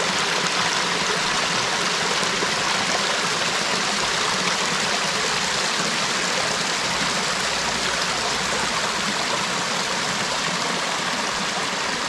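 A Welsh river runs in a steady, loud rushing stream close by, unbroken for the whole stretch with no pauses and no talk.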